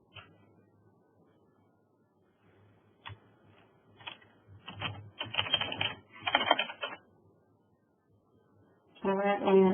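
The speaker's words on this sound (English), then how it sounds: "We're going to type in August visit." Computer keys are tapped in scattered bursts, soft single clicks at first building into quicker flurries of typing, with a denser clatter at the end; no talk is heard.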